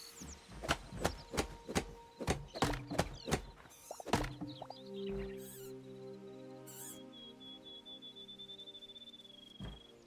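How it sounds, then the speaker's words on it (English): Small squirrel creature in the video game Hytale gives a run of sharp, rhythmic squeaky chirps up close, followed by a lingering thin whistle-like tone over a low ambient game drone. "Is there a squirrel in my ear? It is."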